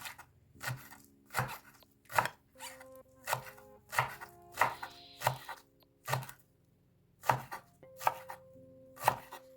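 Green onion tops finely chopped with a knife on a cutting board, about a dozen crisp, close knocks in a loose, uneven rhythm with short pauses between them and no talking.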